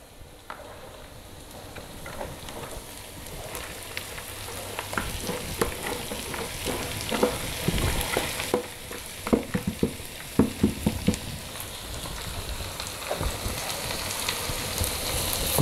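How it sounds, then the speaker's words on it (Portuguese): Blended green zucchini sautéing with wilted onion in a pan, a steady close sizzle and frying crackle with intermittent stirring scrapes and pops growing busier toward the end. "Vou deixar ela dar uma refogada."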